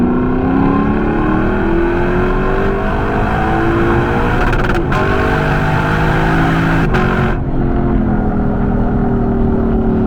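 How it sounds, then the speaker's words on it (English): A 2022 Lexus LC500 with a 471 hp V8 revs and pulls steadily while driving, a loud, continuous engine roar whose pitch rises and falls through gear changes and lifts, heard close from inside the car. "It is a monstrous sounding V8."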